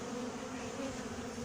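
Honeybees drone steadily at an open horizontal hive during an inspection. The buzzing is continuous, faint and even, with a low hum and no voices.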